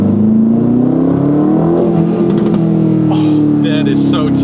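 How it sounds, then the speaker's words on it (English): A 2025 Aston Martin Vantage drives along with a loud, steady engine drone, and a few sharp crackling exhaust pops burst through near the end. "Pops coming out of the exhaust, by the way."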